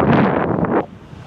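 A west wind blows across the coast of western Réunion, a loud, close rush of gusts buffeting the microphone that drops off abruptly partway through and leaves a faint background wash.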